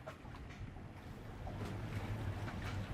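Wind howls and roars around a boat lying at anchor, a continuous gusty rush that builds slightly in strength, with low buffeting against the microphone.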